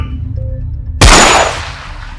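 A single sharp gunshot goes off in a spy thriller short film, a loud sudden crack with a ringing tail that cuts through a low background rumble.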